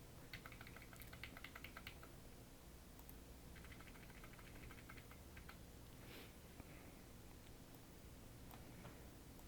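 Keys tapped on a computer keyboard while entering text into a PowerPoint practice exam, with quick clattering bursts separated by short pauses, faint and close.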